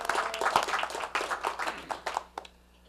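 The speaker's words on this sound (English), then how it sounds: "Applause for Commissioner McKiernan." Applause breaks out at a strategic planning session for Commissioner McKiernan, a room of hands clapping briskly and unevenly for about two seconds before thinning to a few last claps and fading out.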